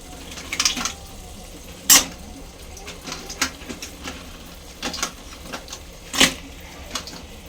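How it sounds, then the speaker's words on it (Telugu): Crabs tipped into a pan begin frying: clattering and scraping of utensils against the pan, a few sharper knocks, and a light sizzle in a home kitchen. "ఇప్పుడైతే పీతలను వేసేసుకుందాం"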